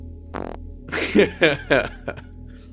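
A voice imitates a fart in a short comic bit during a Call of Cthulhu tabletop game session, with a brief buzzy burst followed by several sputtering, rising and falling blasts up close over a faint background hum.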